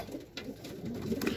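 Pigeons coo in a breeder's loft, a steady run of soft, low coos with some rustling and a brief higher call, all fairly close and without talk.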